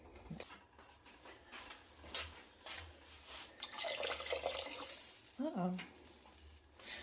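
Water from a kitchen tap pours and splashes into a pot of cabbage soup, a steady liquid rush that swells toward the end, with faint drips and soft background noise.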